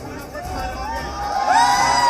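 A large, excited crowd packs a polling station in Jharkhand during Lok Sabha voting, hoping to glimpse cricketer MS Dhoni; a close, steady hubbub of many voices swells louder toward the end with scattered shouts.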